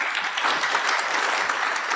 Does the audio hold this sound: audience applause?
yes